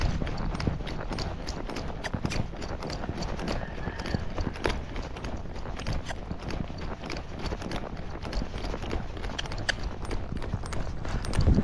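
A Rocky Mountain horse's hooves beat out a fast, even rhythm as it moves in a smooth faster gait along the rail, steady and fairly close throughout.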